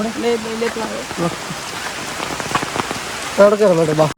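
Rain patters steadily on a surface throughout while a person talks over it near the start and again at the end.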